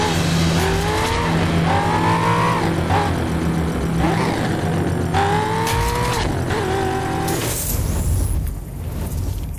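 A car drives fast through the streets of Miami in the racing video game The Crew, with the engine revving up and down through gear changes and tires squealing, loud and continuous with a crash-like burst near the end.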